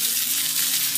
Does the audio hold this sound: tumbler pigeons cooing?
no